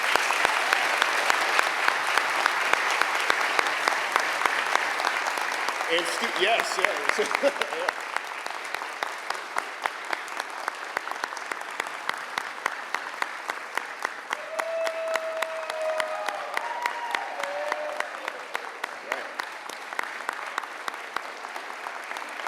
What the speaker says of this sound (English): Students, once again, I want to give you a round of applause for your achievements.